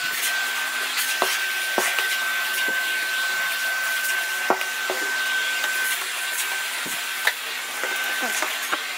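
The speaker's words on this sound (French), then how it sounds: "je vais vous gratifier d'un petit moment aspirateur filmé à main levée" A vacuum cleaner runs continuously up close with a steady roaring whine and a thin high tone, cleaning the floor of a room after LEGO shelves were taken down, with occasional bumps and scrapes as the nozzle moves.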